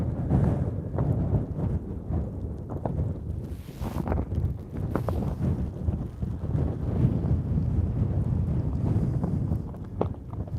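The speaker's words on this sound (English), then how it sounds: "You can see how windy it is now here." Strong wind at a volcano roars steadily and close, buffeting the microphone with a continuous low rumble and occasional louder gusts; no voices.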